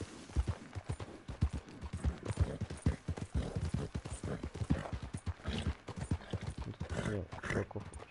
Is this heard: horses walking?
yes